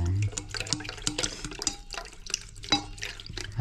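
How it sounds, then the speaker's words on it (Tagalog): A small amount of water trickles and splashes into milk during home cooking, close by, with irregular drips and clinks of a container amid light kitchen handling. "At lalagyan lang natin ng konting tubig para hindi purong-purong gatas."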